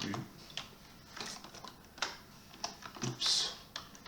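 Computer keyboard typing while a flowchart is built in Lucidchart: a few short bursts of soft, close key clicks with gaps between them, fairly quiet, with no voices over it.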